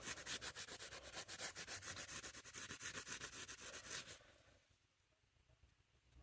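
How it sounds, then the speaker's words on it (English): Steady back-and-forth rubbing on the metal bolsters of a vintage Hammer Brand scout knife during restoration, rhythmic abrasive strokes for about four seconds, then it stops and near silence follows. "I'm just going to work the bolsters and everything, give it a nice good rub down."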